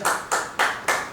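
A church congregation claps after a Sunday morning sermon. Four loud, evenly spaced claps land in quick, regular rhythm, close and distinct.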